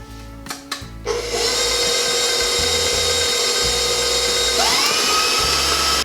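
An electric mixer starts after a few clicks and then whirs at medium speed through cheesecake batter made with juice and vanilla, a loud, steady, close motor whine that shifts slightly in pitch near the end.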